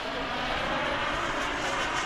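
An L-39 Albatross jet flies at a jet rally airshow, its engine a steady, loud broadband roar that holds constant throughout without pause.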